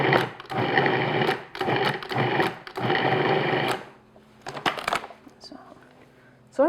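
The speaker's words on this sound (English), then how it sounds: "I'm going to use my food processor today. So I'm just going to pulse it." Food processor pulsing butter into crumbs for blueberry pie pastry, several loud rapid bursts of whirring blade and rattling chunks with brief gaps, then quieter clatter as the pulsing stops.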